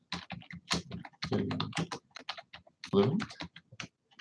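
Computer keyboard typing, rapid close clicking in quick bursts mixed with a voice talking over it.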